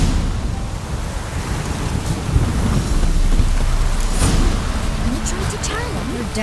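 A heavy downpour hisses steadily in The Witcher 3, a dense wash of rain with low rumbling, while characters speak in the foreground.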